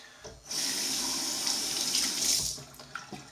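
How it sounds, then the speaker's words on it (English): A bathroom tap runs in a steady, close stream for a few seconds as water is splashed onto a face during a shave, then the flow stops, with a few faint drips and clinks afterwards. "Let me get some water on the face."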